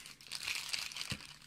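A plastic bag crinkles briefly and faintly while an astronomy telescope eyepiece is unpacked, with light rustling close by and a soft thump near the end.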